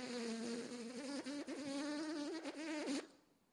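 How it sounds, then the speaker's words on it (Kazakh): At 6 a.m. on a summer morning, a close, steady high-pitched whine of mosquitoes buzzing for about three seconds, wavering in pitch before stopping abruptly. "Менің ұйқымды масалар бұзды."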